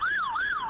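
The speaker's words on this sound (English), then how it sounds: "you're being drowned out by the sirens" Wailing emergency vehicle siren on a New York street during live news coverage, two smooth rising-and-falling sweeps, loud and steady, heard alone.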